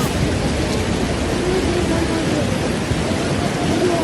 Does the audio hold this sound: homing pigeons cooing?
no